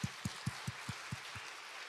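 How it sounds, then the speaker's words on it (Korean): A church congregation claps in a quick, even rhythm during a Sunday service, with about seven distinct, fairly faint claps that fade out over two seconds and no talking. "박수 한번 합시다, 하나님께."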